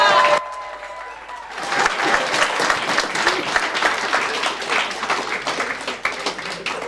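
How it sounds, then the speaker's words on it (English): A crowd at an outdoor community gathering breaks into steady, dense applause for Clare after a brief quiet moment, clapping continuing loudly and evenly to the end. "A round of applause for Clare."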